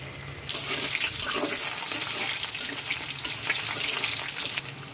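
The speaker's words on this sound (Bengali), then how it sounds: "এখন করলাগুলো আমি মচমচা করে ভেজে নিব।" Sliced bitter gourd dropped into hot oil in a wok, a quiet start giving way to a sudden loud, sustained sizzle that hisses and spits steadily for the rest of the moment.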